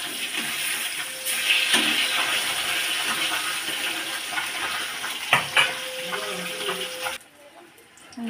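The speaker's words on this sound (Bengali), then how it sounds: "এইগুলো সব মাছগুলো দিয়ে দিই, আমি ভেজে দিয়ে নিচ্ছি" Fish fry in hot oil with a continuous close sizzle, a few utensil knocks and a short voice, before the sound drops away near the end.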